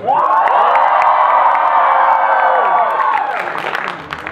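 A large concert crowd at an outdoor hip-hop show cheers, whoops and shouts continuously and loudly, a dense roar that swells then begins to thin out near the end.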